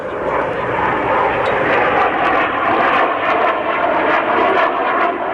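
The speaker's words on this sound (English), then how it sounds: "The F-117A Nighthawk stealth fighter." An F-117A Nighthawk stealth fighter flies slow and low with its landing gear down at a 1996 airshow in Hamilton, giving a steady, loud, broadband jet roar that holds throughout.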